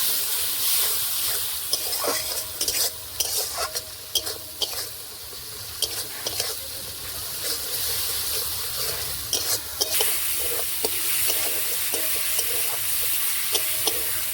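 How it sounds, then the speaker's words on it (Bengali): Spice masala of salt, turmeric and chilli powder cooked down with a splash of water in a pan, a bubbling sizzle broken by frequent spoon scrapes and stirring knocks, close and steady. "ভালো করে এবার জল দিয়ে মশলাটা কষিয়ে নেব"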